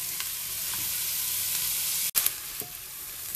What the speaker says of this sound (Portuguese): Vamos misturá-lo e vamos deixar fritar aqui um pouquinho, até a cebola ficar bem transparente.